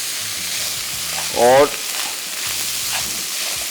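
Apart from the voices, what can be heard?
rice being lightly fried in a pan for fried rice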